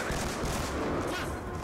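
Dense bursts of rapid gunfire crackle and boom continuously, loud and close, like a sustained exchange of shots in Call of Duty: Black Ops 2, with an M8A1 rifle in use.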